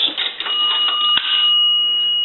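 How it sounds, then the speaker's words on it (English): A three-slot payphone's coin bell rings twice for a dime, two bright metallic strikes in quick succession, the tone sustaining and fading afterward. "A dime will ring the bell twice."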